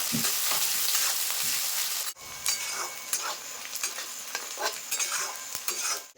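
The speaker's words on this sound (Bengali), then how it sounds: "আমি পেঁয়াজ কুচিটা এখন তেলের উপর দিয়ে দেবো দেখো আমি পেঁয়াজটা লাল লাল করে ভেজে নেবো" Chopped onions frying in hot oil for a homemade mutton curry, a loud steady sizzle with scraping stirs and a brief drop near the middle, close up and without talk.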